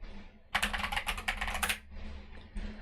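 Quiet, close typing on a computer keyboard: a quick flurry of rapid keystrokes, then a pause and a few softer taps, with no talking.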